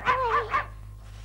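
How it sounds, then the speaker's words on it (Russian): A dog barks three times in quick succession, loud and close, then gives one more bark after a short pause. "это чудовище, ваша собака."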